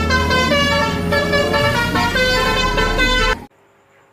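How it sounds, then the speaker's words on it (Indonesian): A toy telolet bus horn plays its bright, musical multi-tone melody loudly and continuously up close, then cuts off abruptly, leaving near silence. "Di sini ada bus telolet."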